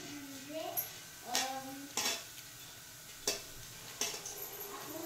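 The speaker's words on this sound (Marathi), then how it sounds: "आता मिरची टाकून घ्यायची ना. चांगली भाजून घ्यायची आता आहे का नाही." Green chillies roasting in a pan for a rustic Maharashtrian curd-chilli dish, with soft crackling and several sharp scraping clinks from stirring at irregular intervals, with faint voices in the background.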